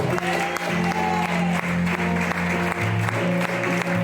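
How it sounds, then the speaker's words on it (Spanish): Listeners at a religious talk give a loud round of applause for several honored men. The clapping is steady and continuous and sits over sustained musical tones. "Y yo pido para cada uno de ellos un fuerte aplauso."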